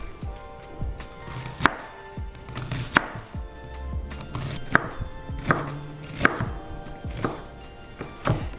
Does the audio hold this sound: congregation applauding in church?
no